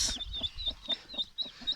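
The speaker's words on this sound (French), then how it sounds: "il y a à peu près 19 poussins pour les 2 poules" Two hens and about nineteen newly hatched chicks make soft, rhythmic clucks with high, thin peeps scattered over them, close and fairly quiet.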